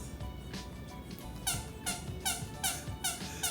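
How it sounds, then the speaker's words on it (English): A baby's squeaky shoes give a run of high squeaks, about five in quick succession during the second half, close and fairly faint over a low background rumble. "They squeak. Squeaky shoes."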